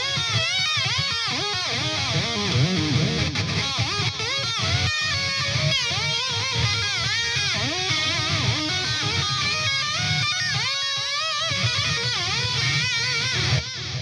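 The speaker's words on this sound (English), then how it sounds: "a dip is basically where you're going to press down on the whammy bar" Distorted electric guitar playing a riff with repeated whammy bar dips, pitch sagging down and rising back smoothly, loud and continuous throughout.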